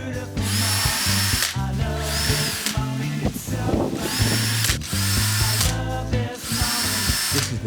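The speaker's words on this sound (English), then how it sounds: "with my really small drill bit, I'm going to drill several holes at the bottom of the legs" A power drill with a small bit bores holes into the bottoms of wooden legs for an outdoor table, loud whining bursts of drilling repeated several times with brief pauses between them.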